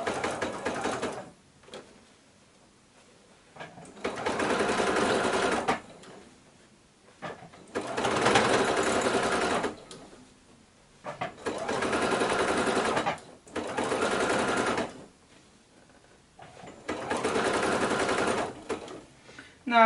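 A domestic sewing machine runs decorative stitches along the binding of a Christmas tree skirt quilt, in six bursts of steady whirring with short pauses between them, close and fairly loud.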